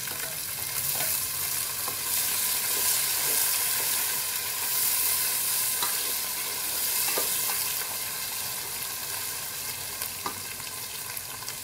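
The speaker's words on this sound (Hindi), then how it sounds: "यहाँ पे लहसुन अदरक अच्छी तरह से मैंने भून लिया, और अब इसमें मैं टमाटर ऐड कर दूँगी।" Garlic and ginger frying in a pan as tomatoes are added: a loud, steady sizzle and hiss with occasional clinks of a stirring spoon, close up and with no speech.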